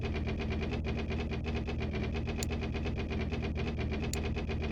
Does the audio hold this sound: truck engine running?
yes